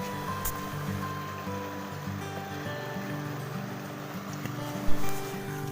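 River water flows steadily at a trekking campsite, a continuous rushing wash heard close with a brief louder splash near the end.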